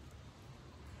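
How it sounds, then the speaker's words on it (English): Steady rain falls outside a garage, a soft, even hiss with no breaks, faint and continuous throughout. "It's raining."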